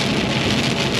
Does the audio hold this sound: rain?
yes